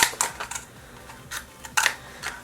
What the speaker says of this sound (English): I'm going to be using the scissors to cut the line for the egg here.